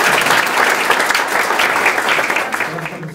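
Audience applause at a volunteer gala fills the hall, a dense, loud and steady wash of clapping from many hands that carries on without a break and eases off slightly toward the end.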